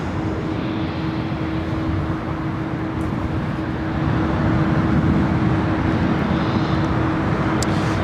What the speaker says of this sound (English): United Airlines Flight 389, this flight heading to Tokyo Haneda 787-10 Dreamliner